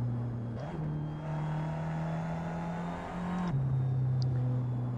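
A Seat Leon 1.9 TDI diesel engine in Assetto Corsa drones and builds slowly, with two audible gear changes that drop the pitch before it climbs again. It comes as a steady, fairly close in-game engine hum.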